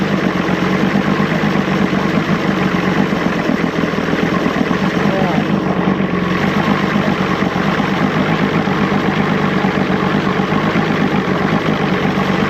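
A 1986 Johnson 90hp SPL outboard engine idles after a carburetor adjustment, a steady, loud, close mechanical drone with a fast regular pulse that holds unchanged throughout.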